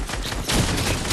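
Rapid video game gunfire fires in a dense, continuous burst, loud and close, with shots blurring together over the whole moment.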